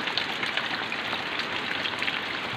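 Steady rain on a Sunday morning makes a continuous close hiss of drops falling on surfaces, even and unbroken, with no voices.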